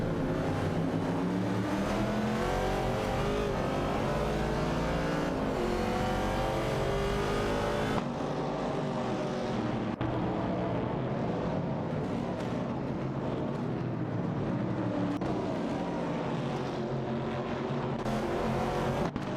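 Race cars overtaking in an AI racing video game produce a continuous loud engine roar with layered, shifting revving tones that rise and fall as cars jostle for position, unbroken throughout with no voices.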